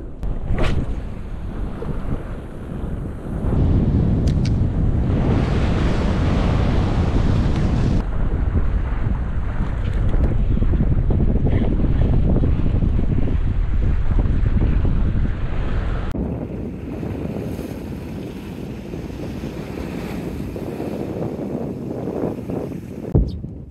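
Wind and sea waves at a Shonan beach during a summer typhoon at high tide, a steady loud roar of surf with heavy wind buffeting on the microphone, easing slightly toward the end.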